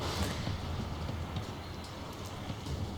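Rain falls in a video game set at Fort Joy, a steady, even hiss of downpour throughout with faint scattered drop-like ticks and no breaks.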